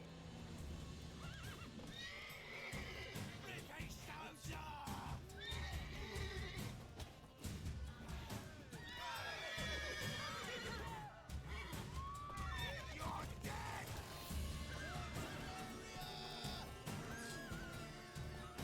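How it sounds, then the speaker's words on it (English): Horses in The Witcher 3 neigh and whinny repeatedly over the clatter of hooves, loud and close, amid a busy game soundscape of steps and impacts with no speech. "Dude, horse, move out of my way."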